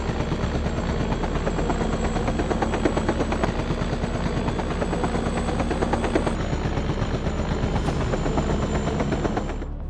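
Robinson R-44 helicopter flying during an aerial hunt, its rotor chop a rapid, steady thudding pulse with a constant engine whine, loud and close for the whole stretch.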